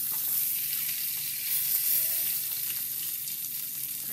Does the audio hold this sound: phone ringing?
no